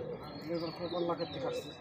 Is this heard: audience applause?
no